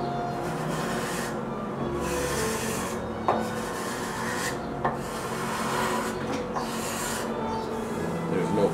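A hand tool shaves a fine layer off a wooden table leg for a Townsend card table, a steady close rasping scrape in repeated long strokes with a few soft knocks.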